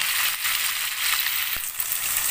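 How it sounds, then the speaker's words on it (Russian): Water poured into a pan of frying rice for a Turkish-style pilaf sets off a loud, bright, continuous sizzle and hiss, with a faint stirring scrape. "добавляю стакан воды."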